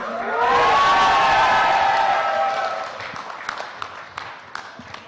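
A crowd cheering and whooping loudly at a smartphone launch event for the Honor Play, the shouts swelling then fading into scattered claps and taps.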